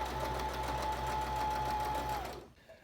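A sewing machine runs at a steady fast rhythm, stitching fabric for a face mask up to the edge before stopping abruptly, loud and close with no talk.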